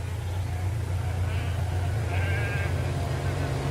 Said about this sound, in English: Now was it to be the road blocked ahead by sheep